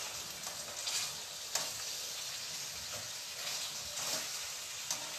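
Wheat grain for pastiera cooks in a pan with a soft, steady sizzle and faint stirring scrapes, heard quietly and close with no talking.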